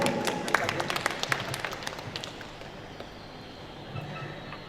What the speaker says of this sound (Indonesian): Ya, tepuk tangan sekali lagi.